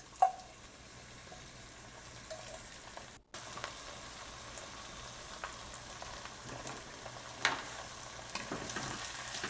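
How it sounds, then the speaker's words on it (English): Curry leaves, garlic, ginger and green chili sauté gently on low heat in a Dutch oven, a soft, quiet sizzle with faint stirring taps and a brief pause near the middle, no voices. "Just saute a little bit while keeping it on low."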